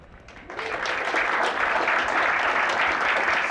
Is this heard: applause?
yes